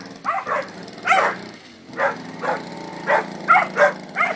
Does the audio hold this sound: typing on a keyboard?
no